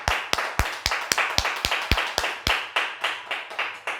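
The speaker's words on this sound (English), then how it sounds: "all clap for Asha" An audience claps for Asha at a birthday surprise, about a dozen close, crisp hand claps in a fairly even rhythm that thin out toward the end.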